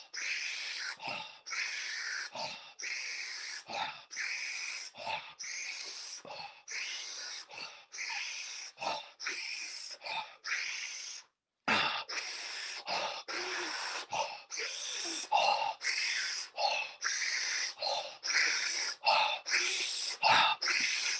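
Deep, heavy breaths taken during a guided breathing exercise, a steady rhythm of loud, close inhales and exhales repeating about every second without pause, with a voice faintly coaching underneath.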